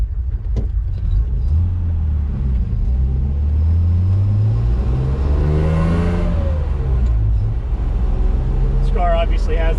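A 1968 MG C GT with its six-cylinder engine drives past loud and close, a deep steady rumble that rises in pitch as it accelerates and shifts, with someone talking over the engine noise.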